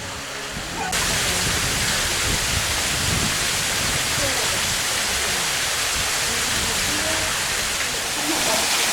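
Steady, dense roar of Yongchu Falls pouring nearby in a mountain valley, broadband and unbroken throughout, growing louder after the first second.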